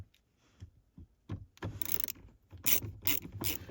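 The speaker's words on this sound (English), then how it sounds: "This little Torx bit. It's a T15." Small mechanical clicks and ratcheting as a Torx T15 bit turns a shifter set screw on a Trailblazer or Envoy, irregular close taps building to scraping bursts.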